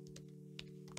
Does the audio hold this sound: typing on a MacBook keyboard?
yes